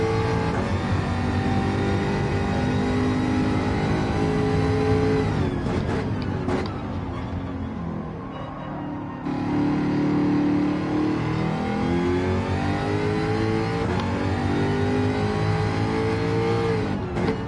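A supercharged Jaguar race car engine in Gran Turismo 7 revs loud and close, dipping briefly as the driver lifts off the throttle before climbing back up through the revs in a sustained drone.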